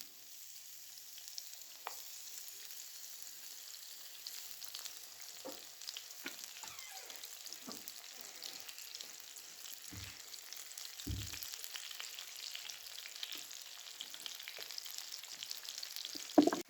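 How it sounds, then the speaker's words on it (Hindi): Gola kababs frying in a pan give a steady, close sizzle with scattered crackles and occasional stirring clatters throughout, with no talk. "अब कबाब जो है मेरे पास अच्छे से फ्राई होने लगे हैं।"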